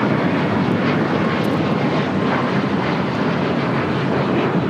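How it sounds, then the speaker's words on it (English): Southwest Airlines Boeing 737 MAX 8 taking off at LAX, a loud, close, continuous jet engine roar with wind buffeting and no voices over it. "This is Southwest Airlines 5934 taking off to Dallas Love Field on a MAX 8."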